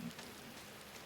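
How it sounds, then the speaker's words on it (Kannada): Steady rain sounds from the video game Inside, a soft continuous patter without voices, fairly quiet throughout with a brief tonal hum at the very start. "ಮಳೆ ಜಾಸ್ತಿ ಬರ್ತಿದೆ, ಏನು ಗುರು ಇದು?"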